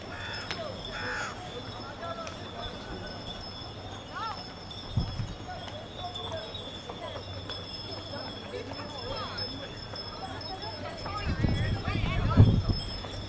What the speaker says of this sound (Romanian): Ați măgarii care ne-au făcut pe noi să ne împiedicăm pe scările pline de excremente de catâri.